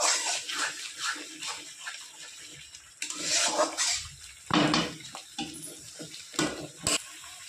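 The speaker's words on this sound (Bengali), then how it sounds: "মশলা ধোয়ার সেই বাটির জলটা দিয়ে দেবো, ভালো করে কষিয়ে নেব।" Water from a spice-washing bowl poured into a pan of masala being fried for an egg curry with potato and cauliflower, giving a close splash and sizzle followed by stirring and clinks of a utensil against the pan, with no talk.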